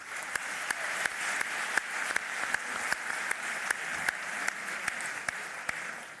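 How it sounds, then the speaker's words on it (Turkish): Applause for the Fenerbahçe Beko basketball players at a team gala night, a steady crowd clatter punctuated by regular sharp, loud claps from someone close by, continuing evenly with no speech. "asıl alkışı onlar hak ediyorlar"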